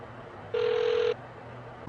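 A single steady electronic telephone tone sounds for about half a second, loud and clear over a quiet room hum, in a tense crime drama scene.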